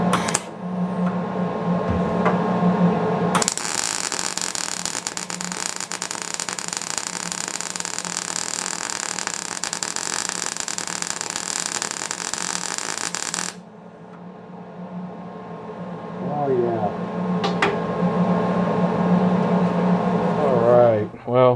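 A repaired welding machine with a fixed gas regulator runs for about ten seconds as a steady, loud broadband hiss and buzz, then cuts off. A quieter hum and rustling follow.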